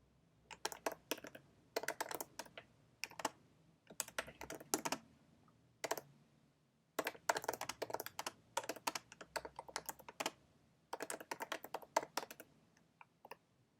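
Fingers type a message on a computer keyboard, rapid bursts of close, crisp key clicks separated by short pauses, with no voices.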